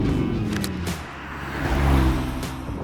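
Skoda Octavia diesel car driving on undulating roads in Glencoe, a steady engine and road drone heard close from inside or near the car, with a slight rise in effort toward the end.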